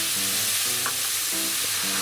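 Chikuwa and enoki mushrooms sizzle steadily in a frying pan over low heat as soy sauce is added, a close, continuous crackle with rhythmic stirring scrapes and no talking.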